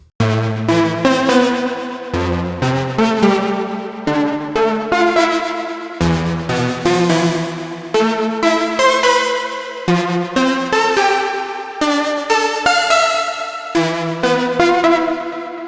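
A bright, buzzy lead preset on the Diva synthesizer for melodic techno plays a rhythmic melody of repeated notes and phrases, loud and upfront, with no voices.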